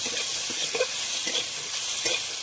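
Green chili and ginger sizzle in hot oil, a short, even hiss of frying with a few soft stirring scrapes, close and steady throughout.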